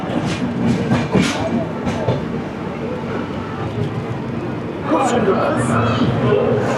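A train rolls into platform 4 at a busy Kolkata-area station and slows to a stop. The rumble and clatter run steadily throughout, with a louder burst near the end, and crowd chatter and voices sound over it.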